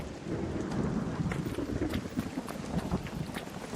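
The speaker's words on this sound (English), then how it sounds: "Beware the lightning strikes if you're outdoors." A video-game thunderstorm with steady heavy rain and a low rumbling roll of thunder, dense and continuous throughout, moderately loud with no voices over it.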